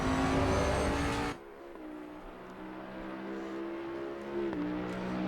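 Engine of a 2020 Bentley GT3 in the racing game Assetto Corsa Competizione at Hungaroring, a loud steady drone that drops in pitch early on, then holds and climbs again as the car accelerates out of a corner; no talking.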